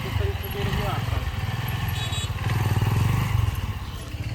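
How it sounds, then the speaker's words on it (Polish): A Honda CRF 150 L motorcycle revs through a wheelie on a road in Bali, its engine droning continuously at moderate level with rising and falling revs. "I robimy testy, jak Hondzina idzie na koło."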